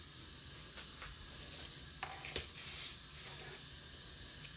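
Chopped onions drop into very hot olive oil in a pan for a vegan chilli con carne, giving a steady broadband sizzle and hiss with a few brief louder crackles and spits.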